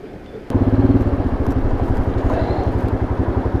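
A motorcycle engine chugs loudly and steadily while the bike pushes through water on a mountain road near the China border, with rapid regular thumping pulses and splashing wash underneath.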